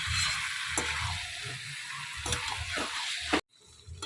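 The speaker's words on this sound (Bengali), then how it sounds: "চলো অনেকক্ষণ ধরেই কষাচ্ছি" Curry sautéing in a pan, with steady frying hiss and repeated scraping stir strokes, then a sudden drop to a much quieter background near the end.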